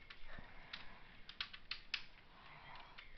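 Soft computer keyboard typing: scattered faint clicks at an uneven pace, close but quiet over a low background hiss, with no talk.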